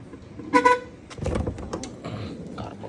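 Horn of a 1991 Honda CRX sounds once in a short, tonal honk, followed by faint clicks and shuffling around the car in a workshop setting.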